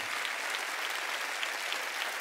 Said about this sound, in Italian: Estendiamo l'applauso a tutti gli autori, ragazzi.